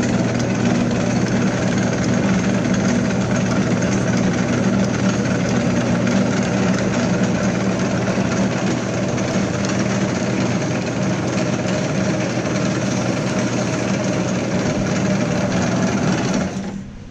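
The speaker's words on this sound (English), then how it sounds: "we have a Rosback Model 220 slit score and perf machine" Rosback Model 220 slit, score and perforating machine running at variable speed with a crease wheel set up, a continuous steady mechanical hum and whir with a low drone, close and loud, stopping at the very end.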